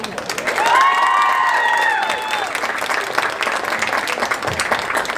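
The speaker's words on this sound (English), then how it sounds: "Let's give one more round of applause for the girls soccer seniors." Applause and cheering from a crowd honoring girls soccer seniors at a high school senior night, steady clapping throughout with whistles and shouts rising early then settling into continuous applause.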